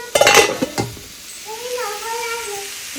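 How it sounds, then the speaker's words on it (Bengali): Cabbage and potato curry cooking in a pan, with a brief burst of stirring and clattering at the start followed by a soft, steady sizzle and a faint tonal whine in the background. "এখানে আমি রান্না করছি বাঁধাকপি আলু দিয়েই রান্না করছি"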